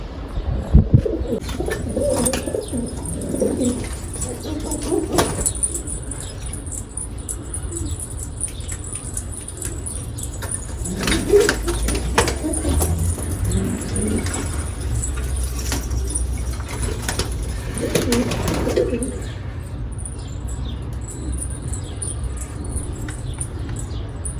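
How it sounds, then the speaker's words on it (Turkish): Domestic pigeons coo in soft, repeated bursts as they are let outside from a coop, with wings flapping, clinks and jangles, and a low rumble of traffic running underneath. "Ne kadar elvan güvercinimiz var, hepsini dışarıya bırakalım."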